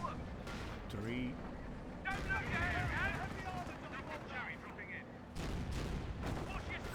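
Firefly tank cannon fire in the war game Company of Heroes 2 comes as a few sharp booms at intervals, set against a busy battle din with a voice talking over much of it.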